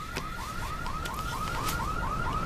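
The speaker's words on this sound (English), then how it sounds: "Oh, another alarm going off, honestly." A car alarm wails nearby in a steady, repeating rising whoop, about two cycles per second, loud and continuous with no talking over it.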